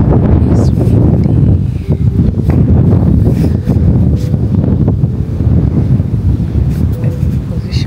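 Strong wind buffets the microphone in a loud, continuous roar, with occasional gusts and a voice faintly under it.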